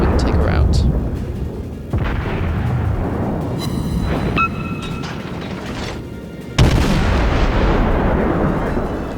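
Naval gunfire in the warship game World of Warships, heavy booming artillery salvos with long rumbling tails, loud and close, recurring across the stretch with brief mechanical tones between.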